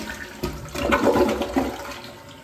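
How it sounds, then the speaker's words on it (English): Kohler toilet flushing in a new hotel bathroom, a close, loud whoosh and gurgle of water lasting a couple of seconds with no voices. "Go ahead and flush it for all the toilet fans."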